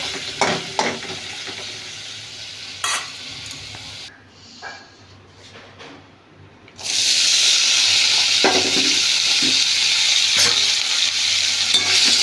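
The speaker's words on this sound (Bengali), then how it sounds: "চিকেনগুলোকে ম্যারিনেট করে একটু সেগুলো ভেজে দিচ্ছি" Marinated chicken frying in a pan, a loud close sizzle with occasional stirring clanks, dipping quieter for a few seconds before surging back to a full, steady hiss.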